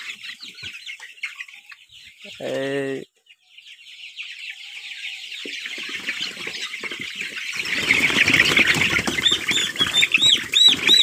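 Tiger chickens, a golden-type breed, on a poultry farm in Subarnachar, Noakhali, clucking nearby; one drawn-out crowing call rises early, then the flock's chatter grows fuller and busier.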